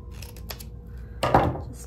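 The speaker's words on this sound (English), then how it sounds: "So I'm gonna trim this up just a little" Scissors trimming a small bit of paper for a junk journal: a few light snips, then one sharper, louder cut near the end, close up, with no talking.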